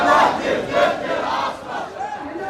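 Protest crowd in revolutionary Cairo chanting slogans against the military regime, a loud, continuous mass of voices rising and falling in rhythmic surges close by.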